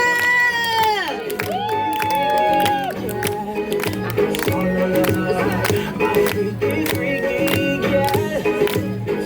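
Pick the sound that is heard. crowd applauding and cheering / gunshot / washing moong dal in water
crowd applauding and cheering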